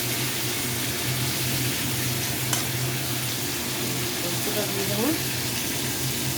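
Poppy seed paste sizzles and fries in a pan for a potato, ridge gourd and stem dish, giving a steady, continuous crackling hiss at close range with a faint voice underneath.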